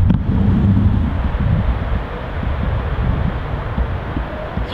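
Wind buffets the microphone on an outdoor golf course, a loud, steady low rumble with gusty fluctuations throughout, no talking.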